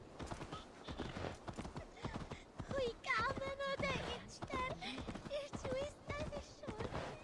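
Horse hooves clip-clop past at a steady gallop in Assassin's Creed Valhalla, a rapid run of beats with a horse's whinny mid-way, all mixed under talk and game sound.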